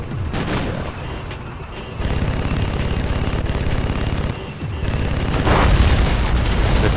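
Combat in the video game Red Faction 2 on the way to the Citadel: dense, continuous gunfire with heavy booming explosions rolling underneath, loud and relentless with no pauses.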